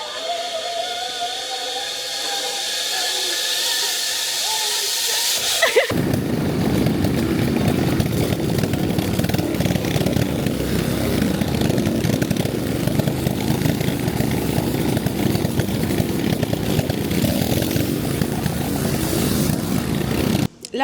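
A quad bike engine drones loud and steady while riding through the jungle, the roar holding for most of the stretch after a quieter opening.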